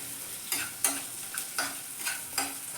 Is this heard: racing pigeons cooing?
no